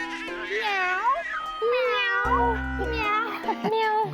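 An animated cartoon cat meows several times in a row, with long, drawn-out, pitch-bending cries and a brief low thump partway through, close and clear.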